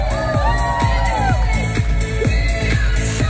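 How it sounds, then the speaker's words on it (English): Spectators at the 2023 Gold Coast half marathon cheer, whoop and applaud in a lively crowd roar, set against a thumping music beat that pulses steadily underneath. "let's give them a big round of applause and keep it going as long as you can"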